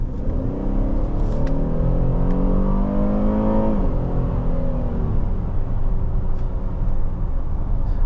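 2023 Buick Enclave Avenir accelerating on the road, its engine rising steadily in a loud, smooth rumble heard from inside the cabin, then easing off as the revs drop, with no talk over it.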